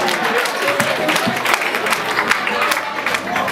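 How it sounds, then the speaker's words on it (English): A lively crowd claps and cheers at a soul cafe open-mic night, dense close applause with scattered shouts and voices mixed in, continuing steadily for a few seconds. "Let me give one more round of applause for Miss Jane Green"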